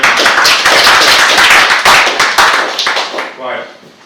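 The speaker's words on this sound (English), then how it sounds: "Another round of applause, another great." Seminar audience clapping in a room, a dense burst of applause that gradually thins and fades out over a few seconds, with a voice speaking over it.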